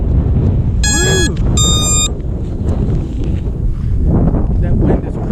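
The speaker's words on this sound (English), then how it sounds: "That wind is cruising." Strong wind roaring outdoors in the cold, a steady broadband rush buffeting the microphone, with two short electronic beep bursts early on and faint talk under it.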